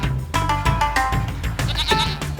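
Goats bleat repeatedly in a large goat-house compound holding hundreds of pens, several loud, wavering calls overlapping one another close by with no talking.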